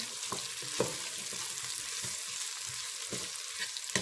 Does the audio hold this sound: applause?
no